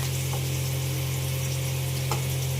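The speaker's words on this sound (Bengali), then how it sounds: "এখানে উচ্ছে ভাজা হচ্ছে" Bitter gourd (uchhe) fries in oil with a steady, close sizzle and soft crackle throughout, over a constant low electrical hum, no talking.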